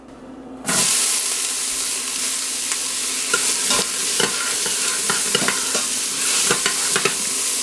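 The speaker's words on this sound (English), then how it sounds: "now we're going to saute some onions" Onions hit hot olive oil in an Instant Pot and burst into a loud, close sizzle that continues steadily, with repeated stirring scrapes and clicks.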